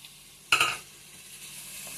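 Onions, cloves, cardamom and green chillies frying in a pan, with a brief louder clatter of stirring early on, then a soft steady sizzle continuing alone.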